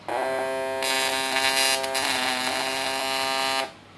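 A fish electroshocker with a platinum-type circuit modified with MOSFETs gives off a loud, harsh electrical buzz lasting about three and a half seconds. It starts with a steady tone, turns brighter and rougher partway through, then cuts off abruptly.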